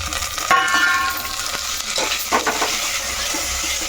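Tomatoes frying in a pan with oil: a steady, loud sizzle with occasional scraping and stirring clatter, with no voices.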